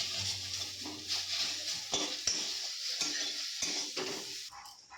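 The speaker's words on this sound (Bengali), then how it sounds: "এই সময় গ্যাসটা খুবই কমিয়ে নাড়াচাড়া করা লাগবে।" Dates and raisins stirred in a pan over a low flame, with soft scraping and clinking of a spoon against the pan and a faint sizzle, steady and close with no talk.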